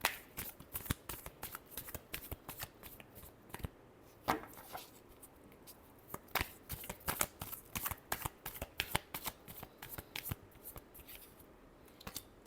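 A deck of tarot cards is shuffled by hand in a series of crisp, riffling bursts and soft flicks, close and fairly quiet, with no talking over it.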